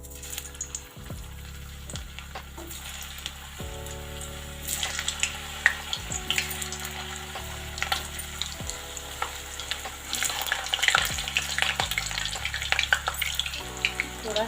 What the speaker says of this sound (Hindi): मैं पहले इसमें आलू को फ्राई कर लेती हूँ।